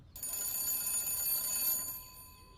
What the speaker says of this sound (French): Et t'as le téléphone qui sonne.